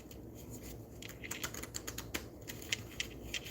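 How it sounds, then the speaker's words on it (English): Quiet, irregular light clicks and papery flicks tick along over soft background noise, like a deck of cards being shuffled nearby. "my cards don't even want to shuffle"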